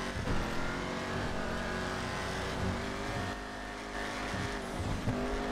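A car drifts fast through a GTA 5 street, its engine roaring steadily with tire squeal layered over the top, loud and close for the whole stretch.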